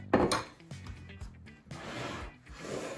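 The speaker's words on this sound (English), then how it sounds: "now I'm gonna crack open two eggs" An egg is cracked against the rim of a separate dish for muffin batter, a sharp tap followed by scattered clinks and handling noises of bowls and utensils, close and fairly quiet.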